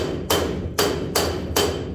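A flat-faced hammer strikes rivets on the hull of a mini jet boat under construction, an STX 15F build, giving four sharp, loud metallic thuds at an even, steady pace, close up with no talk.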